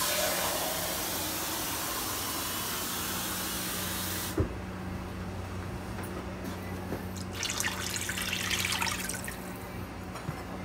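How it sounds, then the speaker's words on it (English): Water poured into simmering gravy in a kitchen pot, a steady hissing pour that cuts off abruptly partway through, followed by quieter bubbling and sizzling with a brief burst of spatter. "We're gonna make it 3."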